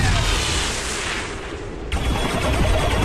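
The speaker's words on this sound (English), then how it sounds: "Turret's shooting." Turret gunfire in XCOM 2 during a firefight, a dense continuous roar of shots and booms that stays loud throughout, with a sharp burst of fresh fire midway.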